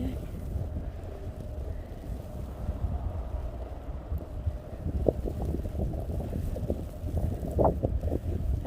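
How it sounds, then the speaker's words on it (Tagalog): Blizzard wind roars steadily against the microphone during a walk through a snowstorm in Montreal, with gusts and buffeting thuds growing stronger toward the end. "Walk with me while blizzard of snow."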